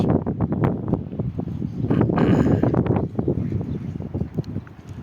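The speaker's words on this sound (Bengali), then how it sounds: "ও বাবা, অনেক বাতাস" Strong wind in hilly country buffets the microphone with loud, rumbling gusts that rise and fall unevenly, heaviest in the middle, with no voice heard.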